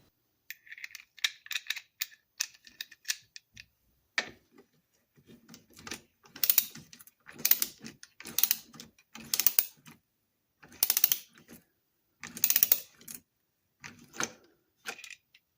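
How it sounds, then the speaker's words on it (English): An antique Mossberg socket ratchet being worked, giving bursts of sharp, close mechanical clicks in an irregular rhythm with short pauses between strokes, fairly quiet with no talking. "The ratchet does work nicely."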